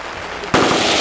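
A single sharp gunshot cracks out abruptly midway, loud and close, followed by a brief echoing tail outdoors at a machine gun and Tannerite shoot.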